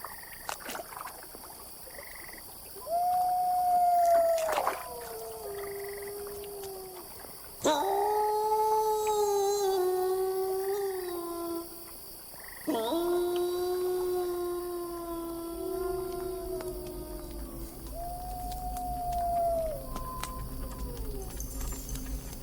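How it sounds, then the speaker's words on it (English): Wolves howl in the wild, long drawn-out wavering calls that rise and fall, sometimes one voice alone and sometimes several overlapping, clear against a quiet background. "The howl of the wolf."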